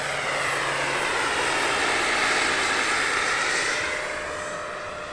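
A giant RC scale model Bell 412 turbine helicopter flies nearby, its continuous whining turbine and rotor roar holding steady before gradually fading toward the end.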